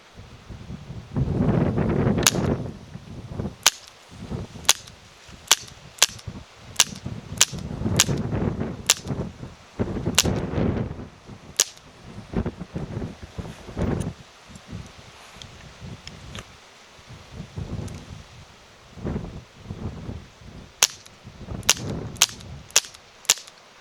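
A Smith & Wesson pellet pistol fired at pumpkins outdoors gives many sharp, cracking shots, some in quick bursts and others spaced apart. Rustling and wind noise sit beneath the shots.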